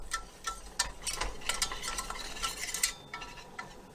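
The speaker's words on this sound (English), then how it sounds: "Whisk it good. I'm on medium heat right now." Flour roux whisked in a pan over medium heat for made-from-scratch mac and cheese, quick scraping and tapping strokes of a whisk against the pan, close and fairly quiet, with no talk.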